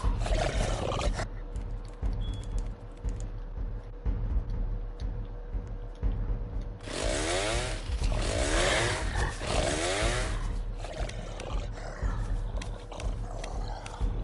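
Chainsaw in the Roblox game 99 Nights, heard first as a low idling drone, then revving up in several loud, rasping bursts before settling back to a rough idle.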